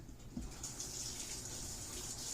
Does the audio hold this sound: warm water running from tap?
yes